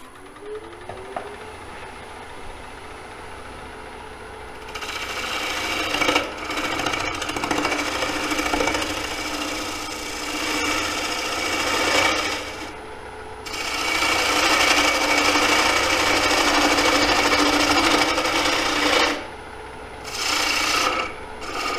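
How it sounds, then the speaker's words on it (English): An Ellsworth gouge hollows a square wooden bowl on a lathe, cutting in long loud rasping bursts that start and stop over a steady motor hum, with short quieter pauses between passes. "Got this Ellsworth gouge almost wide open."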